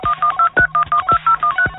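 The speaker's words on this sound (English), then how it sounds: "Just pick up your phone and dial" A telephone number punched in on a touch-tone phone, ten crisp DTMF beeps in quick even succession, loud and close with no talk.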